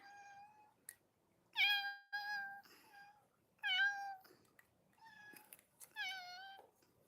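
A pet cat called Mama gives several clear, fairly close meows in a quiet indoor room, spaced out with short pauses between them.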